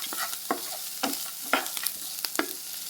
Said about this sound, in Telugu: అలాగే కాస్త బఠానీలు, కాస్త కరివేపాకు ఇవన్నీ యాడ్ చేసుకొని ఒక 5 మినిట్స్ ఫ్రై చేసుకోండి